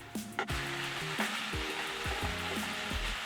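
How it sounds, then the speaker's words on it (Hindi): Fried chilli garlic cauliflower tossed with sauce in a pan, an ongoing sizzle broken by repeated scraping strokes of a spatula, close and steady. "और इसे अच्छी तरह से मिक्स कर लेंगे ताकि जो सॉस है वो कॉलीफ्लावर पर अच्छी तरह से कोट हो जाए"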